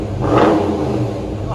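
A Dodge Challenger with a 5.7L HEMI V8 and aftermarket exhaust revs loudly up close, swelling in the first half second and then holding a deep, throaty roar; a voice talks over the engine.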